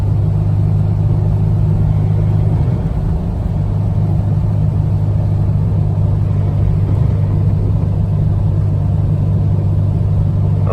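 A car with a swapped-in 3.9L engine cruising steadily in third or fourth gear, its continuous low engine drone and road rumble holding even throughout with no talk over it.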